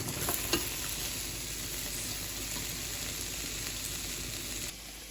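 Vegetables sizzle steadily in a pot on the stove while being stirred, with a continuous close frying hiss and occasional scraping knocks of the utensil against the pot.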